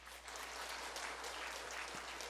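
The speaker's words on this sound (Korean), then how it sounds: "성도님은 뜨거운 박수 부탁드립니다" Congregation applauding in a church during a worship service, a steady, dense wash of clapping throughout at moderate, fairly distant level with no talk over it.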